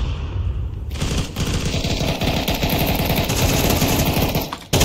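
Rapid automatic gunfire in Counter-Strike 2 during a round, with dense rattling bursts that fill most of the stretch and only brief gaps.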